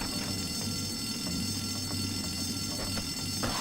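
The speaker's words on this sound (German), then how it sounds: "Alarm auslösen." A school fire alarm set off in Canis Canem Edit rings steadily at moderate level over a low hum, with faint clicks scattered through it.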